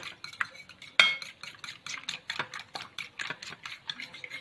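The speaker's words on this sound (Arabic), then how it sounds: "جاي نجيب بقى ايه بيضه نكسرها. نضربها كده" A fork whisks an egg in a bowl, a quick, steady run of close clinking taps against the sides.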